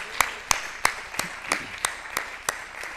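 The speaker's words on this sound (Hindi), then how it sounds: "उनके लिए भी बहुत जोरदार तालियां हमारी तरफ से होनी चाहिए" At a kavi sammelan poetry gathering, evenly spaced claps sound about three times a second, nine sharp slaps in a steady rhythm at a fairly quiet level, with no talk over them.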